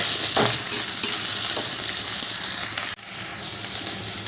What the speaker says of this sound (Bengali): এবার আলুগুলো একটু ভাজা ভাজা করে নেব